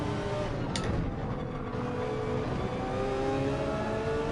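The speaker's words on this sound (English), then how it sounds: "Chewy's BRZ up ahead. Very noisy car." Subaru BRZ race car in Gran Turismo 7, a steady droning engine whine with rising and falling pitch, loud and continuous with a brief higher squeal early on, no talk.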